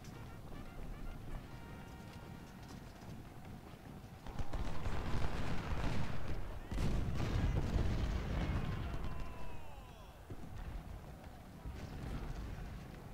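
Civil War cannon fire in Ultimate General: Civil War during the battle of Corinth, low booms and rumbling bursts rising midway over ambient battle noise, with someone speaking German throughout.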